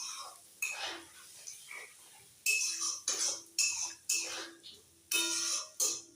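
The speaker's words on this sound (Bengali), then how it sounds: "এবার আমি মশলাটা ভালো করে কষে নেব।" Spice paste for a green-banana kofta curry is worked in a pan with a metal spoon, giving bursts of scraping and clinking strokes between quieter moments, close and fairly crisp.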